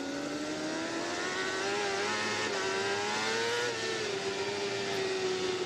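A Kawasaki superbike engine at the 2001 Laguna Seca race screams steadily close by, holding a high, sustained, singing whine as it revs toward 15,000 RPM.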